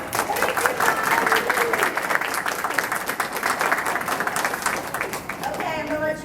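A seated audience applauds loudly and continuously at a Disneyana convention event in Dayton, the dense clapping fading near the end as a voice begins speaking.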